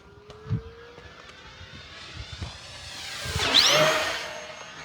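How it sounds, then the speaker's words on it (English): An FMS P-51 Miss America 1.1 m electric model airplane flies a fast pass overhead, its thin whining motor drone rising and sweeping in pitch, swelling loudest near the end as it rushes by, with faint knocks in the background. "it's a fast plane on 4S, and on 6S it's insane"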